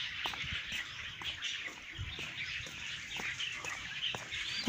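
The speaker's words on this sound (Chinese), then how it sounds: "哇，有鸟叫声啊！" Chickens cluck and birds chirp steadily near a temple during a quiet morning walk, with repeated short calls over a constant outdoor hiss and a sudden louder sound at the very end.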